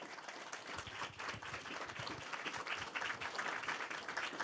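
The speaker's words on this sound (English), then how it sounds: "I just want to give each of you a round of applause for everything that you do." An audience at a press conference breaks into sustained applause, dense steady clapping from many people in a room, close and continuous throughout.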